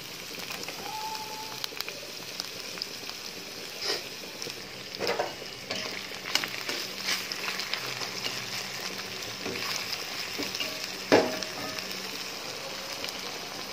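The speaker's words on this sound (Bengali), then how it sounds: "পেঁয়াজ আলু শুটকি সব একসাথে বেজে ফেলবো" Onion, potato and dried fish fry together in a pan, a steady soft sizzle with occasional stirring scrapes and clinks.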